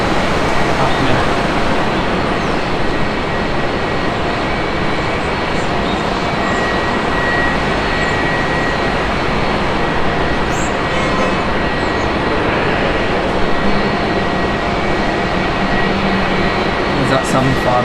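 Aircraft engines drone in a loud, steady roar at Manchester Airport ground operations, a broad unbroken hum with faint higher whines throughout, heard close and continuous.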